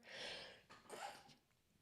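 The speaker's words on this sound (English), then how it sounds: "That was a sneeze." A single soft sneeze with a breathy inhale before it, quiet and close, trailing off into near silence.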